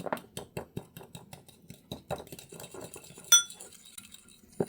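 A spoon mixes biscuit dough tinted with kiwi in a bowl, producing rapid close scraping clinks in an uneven rhythm that slow near the end, with one bright ringing knock midway.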